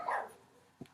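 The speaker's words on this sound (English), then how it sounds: "And I'm sorry about the dog." A single dog bark sounds at close range indoors, then a second short, softer woof follows after a pause.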